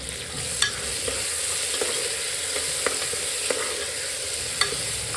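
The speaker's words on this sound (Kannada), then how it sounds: "ನೆಕ್ಸ್ಟು ನಾನಿಲ್ಲಿ ಕರ್ಬೇವಿನ ಸೊಪ್ಪನ್ನ ಆ್ಯಡ್ ಮಾಡ್ತಾಯಿದ್ದೀನಿ." Curry leaves dropped into hot oil in a pan while cooking kushka rice give a steady close sizzle with scattered crackles and a few sharp spatter pops throughout.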